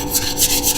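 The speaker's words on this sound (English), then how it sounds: "What I usually do is these little sanding blocks." A small sanding block scrubs across wood for a cigar box guitar build, giving quick, close, rhythmic rasping strokes that stand alone with no voices.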